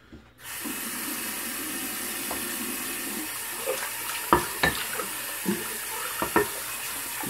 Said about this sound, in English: Now I can fill up my water bowl